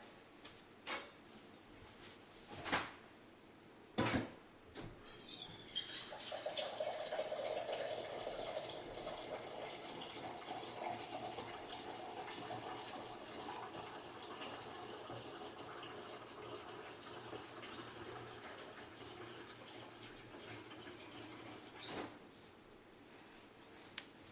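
Water runs from a kitchen tap for a smoothie, a steady hiss lasting about fifteen seconds, with a few clicks and knocks of cupboard or drawer handling before it starts and after it stops; no one speaks.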